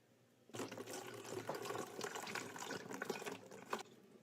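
Homemade mead poured into a container: after a quiet start, a steady gushing stream of liquid runs continuously for nearly four seconds, close and fairly loud, with no talk.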